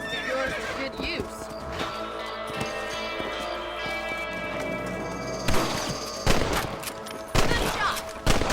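Gunshots ring out while hunting rabbits on horseback in the Red Dead Redemption video game, sharp bursts in the latter half over horse hooves, neighing, background music and voices talking.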